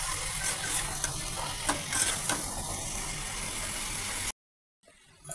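Sliced potatoes and eggplant being stirred in a pan with dried fish, a steady scraping and sizzling texture with clinks from the utensil, cutting off into near silence near the end.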